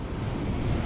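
North Sea waves crashing against rocks on the Scottish coast, a dense, steady roar of surf and spray with wind buffeting, close and continuous, no voices.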